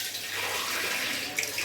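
Water poured from a glass into a bowl of jaggery, a short steady splashing rush lasting under two seconds.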